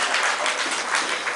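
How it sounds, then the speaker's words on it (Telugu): A church congregation claps their hands together in praise of God, a dense, steady wash of many hands filling the space continuously and loudly. "చప్పట్లు కొట్టి దేవుని స్తుతిద్దాం."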